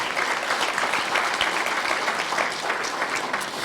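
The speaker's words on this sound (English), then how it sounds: "How about a round of applause?" An audience at a college and public schools symposium in Quincy gives a steady, dense round of applause that stays strong and even from start to finish, with no talk over it.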